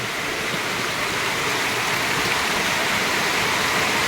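Loud, steady rushing water from a rain-fed fishpond overflow fills the whole clip, a dense continuous roar like a torrent or spillway close by, with no voices.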